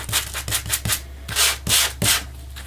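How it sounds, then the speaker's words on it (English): A sanding block rubbing across cardstock in a close paper craft: about eight short, scratchy back-and-forth strokes in an uneven rhythm, with no talking. "sanding block to cover a wide range of the cardstock"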